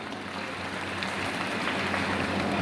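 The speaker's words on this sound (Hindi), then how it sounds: "तो जोरदार तालियों से सबसे पहले तो स्वागत करें आप उन सभी का।" Sustained applause from a large crowd at a mahapanchayat gathering in Morena, a steady dense clatter of clapping holding at an even loudness throughout, with no voices standing out.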